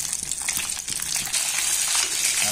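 Cashews fry in hot ghee with a dense, continuous rushing crackle, loud and close throughout, with no talk.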